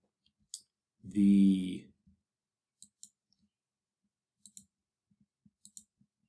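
A computer mouse gives sparse, faint, crisp clicks, several in quick pairs, spread across a quiet stretch with a brief louder tonal sound near the start.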